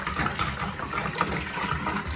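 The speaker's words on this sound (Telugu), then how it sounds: "అదిగోండి మా బాబు కుండలో నీళ్లు పోస్తున్నట్టు చూడండి." Water is poured from above into a clay pot, a soft continuous gurgling splash at close range that stays fairly even for a couple of seconds, with no talking.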